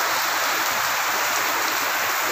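Heavy rain pouring steadily in Quezon City, a dense continuous hiss of drops with no voices.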